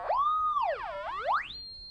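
Exposed to changing light, a Colorino color identifier's sensor tone glides down and back up in pitch, then settles on a steady high electronic whistle, clear and alone.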